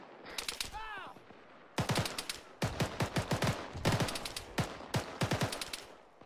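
Gunfire in the ArmA 3 video game comes in rapid bursts of close, loud shots, several volleys in quick succession with brief pauses, and a voice is briefly heard early on.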